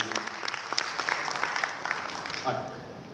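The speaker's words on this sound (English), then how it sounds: "Give a big round of applause to Ayu." An audience at a session on inclusive economic development claps for a speaker, a dense burst of applause with some sharper individual claps, fairly close, lasting the whole stretch.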